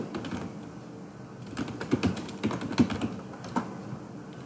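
Keystrokes on a computer keyboard as someone types Microsoft Teams into a web browser: a brief, irregular run of close, light clicks with no voice.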